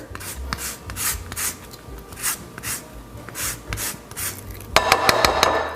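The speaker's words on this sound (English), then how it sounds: "you want to zest the lemons directly into the sugar" Lemons being zested straight into sugar in a large mixing bowl, a soft dry rasping scrape repeated in steady strokes, close and fairly quiet, with a brighter scratch near the end.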